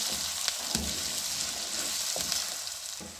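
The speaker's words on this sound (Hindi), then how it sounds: "तो हम थोड़ा सा भून लेंगे।" Steady, close sizzling and crackling of cumin seeds and ginger-garlic paste frying in a hot pan, with a few soft clinks of a utensil stirring.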